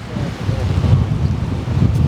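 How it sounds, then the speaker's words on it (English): Strong wind buffets the microphone with low, rumbling gusts that swell and ease over a couple of seconds, high on the Devil's Staircase trail in Grand Teton. "it's way windy up here"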